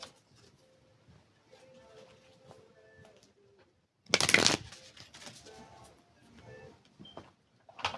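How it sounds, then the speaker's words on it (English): A single quick riffle of playing cards, a sharp burst of flapping clatter midway, surrounded by quiet rustling and faint handling noises. "Let me finish shuffling. Got one more deck to shuffle."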